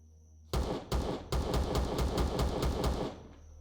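Rapid automatic gunfire from a weapon in the space survival game Empyrion: Reforged Eden, with a couple of opening shots, then a sustained loud burst of evenly spaced rounds lasting about two and a half seconds before stopping.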